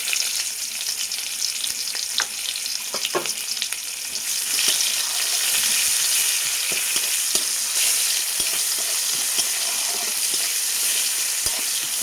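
Chopped onion added to hot oil already tempered with salt, two bay leaves, nigella seeds and a dried red chilli, sizzling loudly and continuously, with the hiss swelling after a few seconds and occasional stirring clinks.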